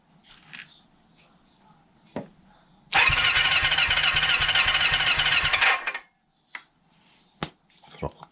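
A Kawasaki Zephyr 750 engine cranking on the starter with the throttle open during a compression test, a loud steady rhythmic whirring for about three seconds between quieter shop clatter.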